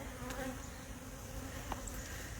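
Honey bees buzzing at an open hive, a faint continuous hum with no break and no talk over it.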